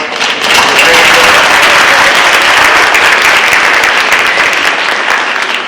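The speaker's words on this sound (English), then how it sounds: "Let's give them all a round of applause." An audience applauds students being recognized at a school board meeting: dense, steady clapping starts almost at once and holds at full strength throughout, fading only slightly at the very end.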